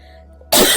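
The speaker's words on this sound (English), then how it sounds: "I have a coughing fit." A single loud, sudden cough bursts out after a moment of near silence, close to the microphone and short.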